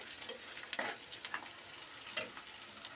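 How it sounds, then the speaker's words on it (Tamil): Onions sautéing in a pan for rava kichadi give a quiet, steady sizzle with a few soft clicks of stirring, and no voices. "வெங்காயம் கொஞ்சம் நல்லா வதங்கட்டும்"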